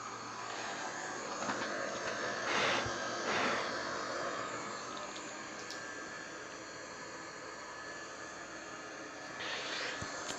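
Broad, steady airliner engine roar and cabin rush from an Airbus A330 in Microsoft Flight Simulator, continuous and even with faint clicks and slight swells in level.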